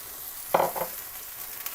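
Haleem mixture being sautéed in a pan, with two quick scraping stirs over a soft, steady background sizzle.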